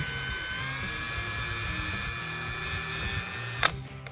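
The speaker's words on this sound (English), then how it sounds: "So now we're gonna match drill the holes just a little bit." A power drill whines at a steady high pitch for several seconds, close and loud, match-drilling holes in a car's front splitter extension, then stops abruptly with a brief clatter.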